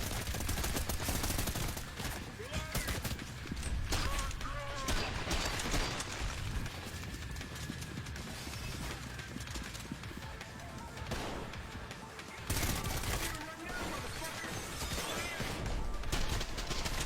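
Rapid video game gunfire from a Black Ops style shooter, dense bursts and automatic fire layered with crashes and clatter, loud and continuous throughout.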